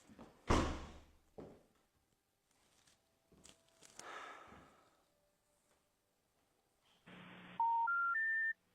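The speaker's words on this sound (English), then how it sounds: "Let me try Michael on the phone" A telephone number is dialed, with a short run of rising touch-tone beeps near the end following scattered knocks and rustles in a quiet room.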